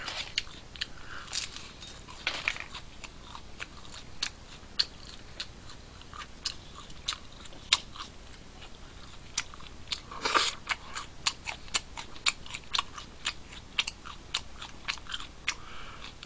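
Someone bites and chews crispy fried chicken close to the microphone, producing a long run of sharp crunches and wet mastication clicks at an irregular pace. Two louder crunching bites stand out along the way.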